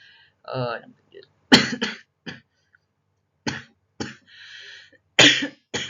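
Several sharp coughs burst out between short stretches of speech, close and fairly loud.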